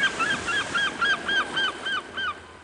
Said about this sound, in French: Même les mouettes avaient leur mot à dire.